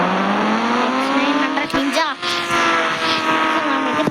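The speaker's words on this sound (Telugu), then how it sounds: "So let's go. కావాసాకి 900" A Kawasaki 900 motorcycle engine revs hard and rises in pitch as it pulls away, loud and close throughout, with a couple of sharp shifts in tone.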